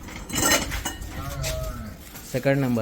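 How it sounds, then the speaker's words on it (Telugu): Murrah buffaloes lowing on a farm, a few deep drawn-out moos rising nearby, with clinking metal and some background noise around them. "లైన్గా మీకు బఫెల్లోస్ ఉంటాయి అన్నీ."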